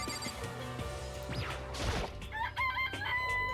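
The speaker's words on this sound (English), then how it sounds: "This place even has chickens, huh?" Chickens cluck and a rooster crows in the Danganronpa Trigger Happy Havoc video game, with bright rising calls and a sharp crash-like hit amid steady game ambience. No one speaks.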